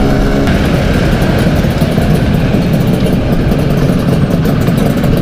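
A Vespa scooter engine runs loud and steady on a Bali toll road, a continuous close, dense engine drone with no clear breaks or talk.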